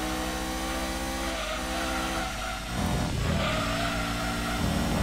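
Racing car engine in the Gran Turismo 2 video game, a loud continuous drone that holds steady, dips briefly, then surges back as the car accelerates hard.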